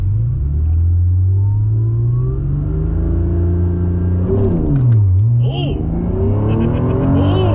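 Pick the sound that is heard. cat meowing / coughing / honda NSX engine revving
honda NSX engine revving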